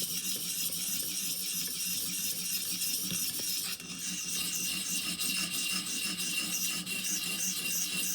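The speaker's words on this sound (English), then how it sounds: "Maybe give a little broader strokes, try and use more of that stone." A 511 recurve knife rasps in continuous, close strokes across a 250 grit sharpening stone, a steady gritty scraping with a brief dip partway through.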